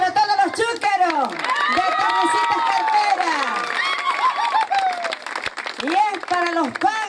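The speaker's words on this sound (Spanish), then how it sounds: "le pedimos un fuerte aplauso para todos los chúcaros" A crowd at a folk festival applauds and cheers, with loud whoops and shouted voices rising and falling over continuous clapping.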